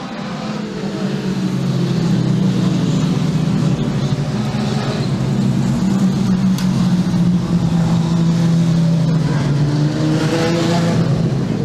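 Production sedan race cars roar along a back straight, a loud, continuous engine drone with shifting pitch as the cars pass, no talk heard.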